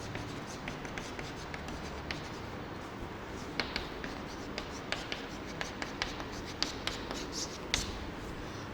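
Marker or chalk writing on a board during a math lesson: steady scratchy strokes with light taps, fairly close and quiet, no talk.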